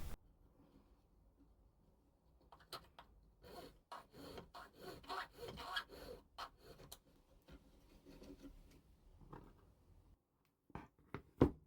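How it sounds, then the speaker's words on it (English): A file is drawn lightly across the end of a sterling silver ring band in short, irregular rasping strokes, fairly faint and close, with small pauses between bursts and a few sharp clicks at the end. "I'm just lightly filing the end here to make it square."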